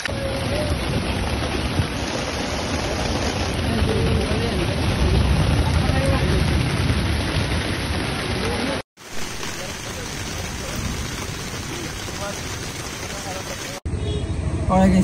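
Dense, steady rain roars continuously in the hills with a broad wash of noise, briefly cutting out twice; voices murmur faintly beneath the downpour.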